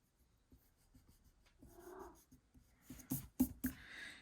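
Pencil drawing a Day of the Dead skeleton shoe on paper, then rubbing with an eraser: faint, soft scratchy strokes build into a brief burst of quick, louder rubbing near the end, with no speech.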